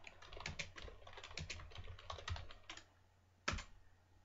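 Rapid typing on a computer keyboard, close and fairly quiet, with irregular clusters of key clacks, a pause, then one sharp final keystroke.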